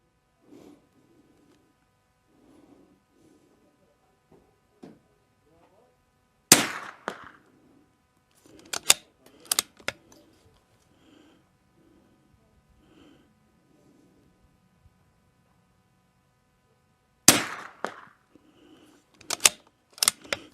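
Rimfire rifle shots, RimX and Vudoo 360 rifles fired outdoors in cold weather, ring out as sharp single cracks, two clusters of a few shots each separated by long quiet stretches with faint handling sounds.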